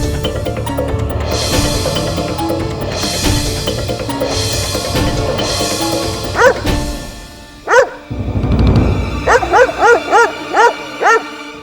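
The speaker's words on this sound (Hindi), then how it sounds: "इस कुत्ते को बाहर ले जाइए।" A dog barking in a courtroom during a televised court drama: loud repeated barks and whimpering yelps, ending in a rapid, even series of sharp barks, with busy background sound beneath.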